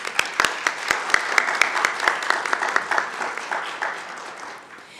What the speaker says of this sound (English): So maybe we could have a round of applause for all of those folks.